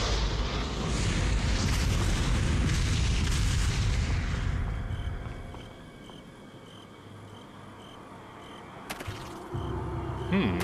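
A heavy, rumbling explosion in Resident Evil 4 VR booms loudly and then fades into a long decaying rumble, followed by quieter ambience and a sharp clank near the end, with no talk.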